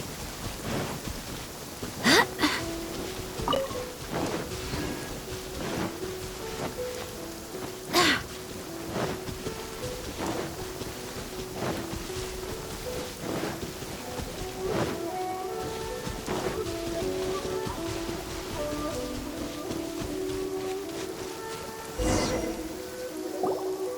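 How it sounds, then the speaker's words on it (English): Steady rain patter in the video game Genshin Impact, broken by several sharp cracks of thunder and soft drips, with a faint tonal melody underneath. "The rain won't slow me down."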